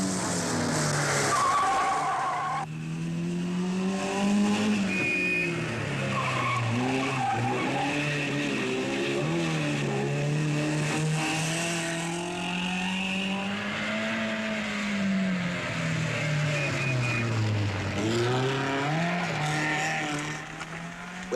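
Rally cars at the 1958 Alpine Rally, including a Triumph spinning on a mountain road, with engines revving steadily and tires skidding and squealing loudly throughout, close and continuous without talk.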